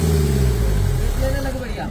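A car engine at a mechanic's revs and then winds down over a couple of seconds, heard close, with a voice talking over it.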